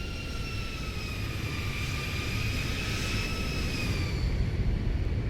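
A Boeing 737 airliner's jet engines roar steadily on landing approach in the Zibo 737 flight simulator, a loud, dense drone with a high whine gliding slowly downward.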